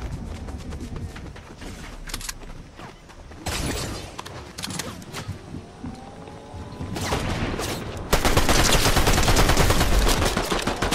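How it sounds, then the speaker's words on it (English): Rapid bursts of automatic gunfire in a Fortnite Zero Build squads match, loud and close, with sustained volleys building to a dense, continuous barrage near the end. "he's trying to shoot me"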